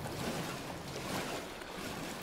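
Steady, close rush of water and surf-like wash as a character swims through the sea in the video game Towers of Aghasba, continuous and fairly loud with no voices.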